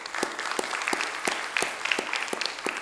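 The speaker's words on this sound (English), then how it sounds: "Applause for Sandra." An audience applauds a presenter at the close of a talk: steady, moderately distant clapping with sharp individual claps standing out over a dense wash.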